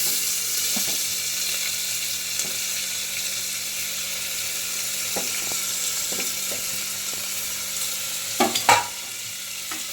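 Tomatoes sautéing in a pan for Solapuri masala rice, a constant close sizzle with occasional spoon taps and a few sharper scrapes near the end, with no talking.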